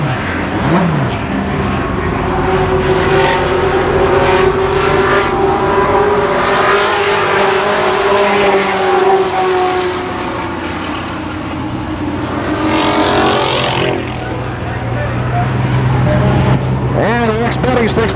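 Race cars roar around the Kil Kare Speedway dirt track during the 1993 Memorial Day Championships, loud engines rising and falling as cars sweep past, with an announcer talking over the continuous racing noise.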